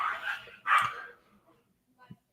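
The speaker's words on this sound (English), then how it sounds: "Those are my dogs. They fighting." Dogs fighting let out two sharp, close barks in quick succession, followed by a faint yip after a pause.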